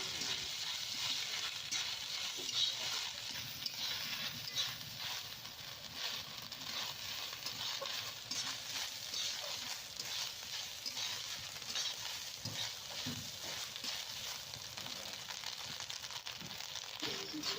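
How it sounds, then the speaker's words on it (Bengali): Grated coconut with ginger paste is stirred and fried in a pan, making a soft, continuous sizzle and scraping that stays even throughout, with no voices. "কুড়ে রাখা নারকেলটা ওর মধ্যে দিয়ে দিচ্ছি, দিয়ে নাড়াচাড়া করে ভালো করে ভেজে নেব।"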